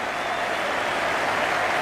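A huge crowd of over 87,000 at the Melbourne Cricket Ground, at the 1992 Cricket World Cup final between England and Pakistan, roars and applauds in a dense, steady wash of cheering that stays loud throughout.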